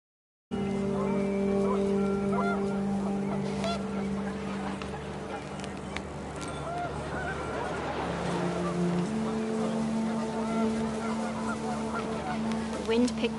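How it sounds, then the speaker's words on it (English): Panicked geese honk in a windy outdoor scene in the video game What Remains of Edith Finch, a flock of overlapping calls over steady wind and sustained tones, with a voice narrating over them. "The wind picked up, and panicked geese appeared and quickly went."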